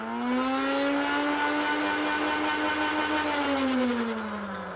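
The flywheel motors of a NERF Fortnite B-AR toy blaster spin up into a steady, whining rev, holding the note for several seconds before it slowly winds down.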